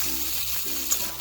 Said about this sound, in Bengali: আলুটাকে নাড়িয়ে চাড়িয়ে একটু ভেজে নেব